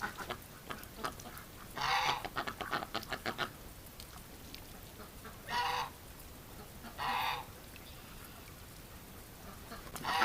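Ducks from a winter flock give a few short, raspy honking bursts with gaps between them, set against a steady low background hiss in freezing -18°C weather.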